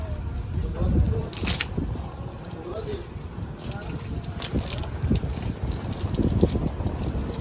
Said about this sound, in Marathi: होय की लागा खरंच वारा आहे.